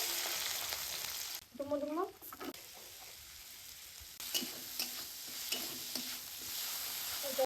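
Onions go into hot oil in a pan where prawns have been frying, giving a soft sizzle with brief gaps and light clatter, while other household sounds and a faint voice break in briefly.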